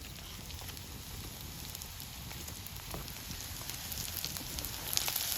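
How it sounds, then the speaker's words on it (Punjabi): A wood campfire burns at a jungle campsite beside a tent, giving a steady close crackle with scattered sharp pops and a soft roar that swells slightly toward the end. "ਅੱਗ ਬਹੁਤ ਜ਼ਿਆਦੀ ਆ"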